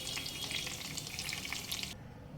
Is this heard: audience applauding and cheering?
no